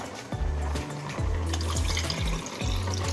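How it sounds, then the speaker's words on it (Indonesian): Water is poured into a pot of opor ayam, an Indonesian chicken curry, during home cooking, a steady close liquid rush running the whole moment beneath background music. "Lalu tambahkan air."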